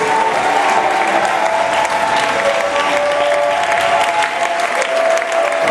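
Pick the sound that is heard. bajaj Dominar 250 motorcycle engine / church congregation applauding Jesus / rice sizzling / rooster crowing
church congregation applauding Jesus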